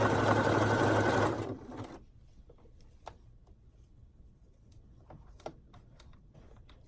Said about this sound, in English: I'm going over my serge seam just to hold it down